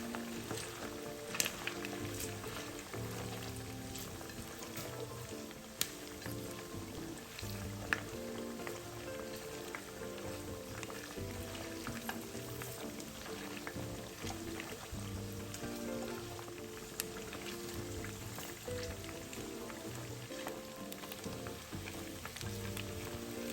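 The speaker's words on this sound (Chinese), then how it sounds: "肉块油炸至视频中这状态，即可沥干油分捞起。" Pork belly chunks deep-frying in oil, giving a steady, fairly quiet crackling sizzle with small pops that runs on unbroken for over twenty seconds.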